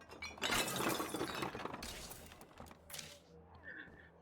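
Looting in the video game State of Decay 2 brings a loud glass-shattering smash up close, followed by scattered tinkling debris and a brief thud that settle into quiet.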